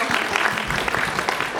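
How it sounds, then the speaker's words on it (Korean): Audience applause fills a hall during a youth employment mentoring concert, a steady, dense clatter of many hands clapping at close range for under two seconds. "여러분 박수 부탁드리겠습니다."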